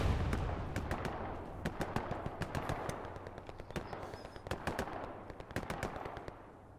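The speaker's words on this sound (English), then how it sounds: "I just shot the half-track driver out." Rapid bursts of automatic gunfire in a Hell Let Loose battle, aimed at a half-track driver, crackling in repeated sharp volleys across the whole stretch with no talking.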